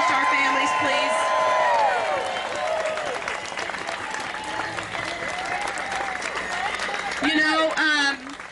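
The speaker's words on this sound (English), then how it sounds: "So could you just give a round of applause to our Gold Star and Blue Star families, please?" Crowd applause with scattered cheers and whoops at a Tea Party Express rally in Dallas, honoring Gold Star and Blue Star families; sustained clapping fills the room for several seconds, with a voice briefly rising over it near the end.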